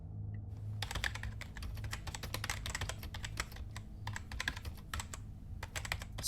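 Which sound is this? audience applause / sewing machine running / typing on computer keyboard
typing on computer keyboard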